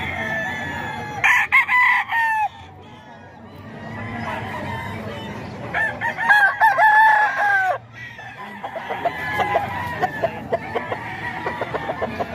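Gamecock roosters in Bocaue crow in several separate bursts, close and fairly loud, with softer clucking and faint background murmur between the calls.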